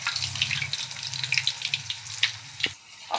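Urad dal vadas sizzle steadily in a kadai filled with oil, a continuous hissing crackle close up with no talking.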